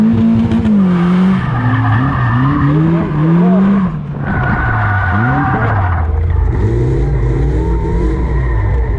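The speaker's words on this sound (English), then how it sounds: "I'm going to be doing a bit of drifting" A Caterham Seven drifting, its engine revving and dropping in wavering sweeps while the tyres squeal and skid loudly and almost continuously close by, with a brief dip near the middle.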